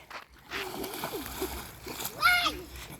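Children playing in water send up repeated splashes and sloshes nearby, while excited voices shout and chatter over the splashing throughout.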